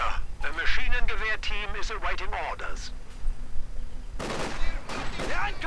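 Bursts of MG42 machine-gun fire from the Company of Heroes 2 video game erupt in the last second and a half, loud and broadband, after several seconds of someone talking over low game ambience.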